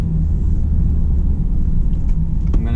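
A 2017 Ford F-250 Powerstroke diesel pickup rolls slowly into a gas station, its low engine rumble steady and close throughout, with a brief rattling burst near the end.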